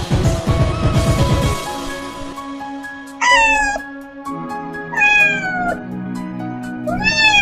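A domestic cat meows loudly and clearly, three or four drawn-out, rising-then-falling cries spaced a couple of seconds apart, after an opening burst of busy rumbling noise.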